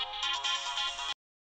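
A mobile phone ringtone plays loud and close, a bright electronic melody lasting about a second before cutting off abruptly into silence, with no voices over it.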